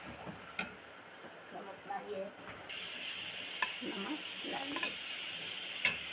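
Beef keema being stirred in a pan with tomato paste, salt and chili powder, soft scraping and gentle sizzling with occasional utensil ticks on the pan, under a voice speaking nearby.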